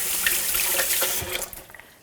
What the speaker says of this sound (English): I'll just wash this off.